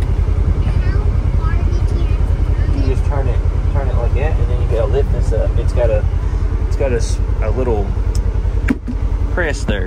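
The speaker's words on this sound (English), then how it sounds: "So let's see what it is in high idling." A 2024 Polaris Xpedition side-by-side idles in high gear with a steady, close engine drone throughout. Someone talks over it, and a brief dip comes near the end.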